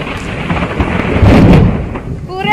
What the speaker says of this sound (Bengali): বর্তমানে প্রচুর পরিমাণে মানে মেঘ ডাকছে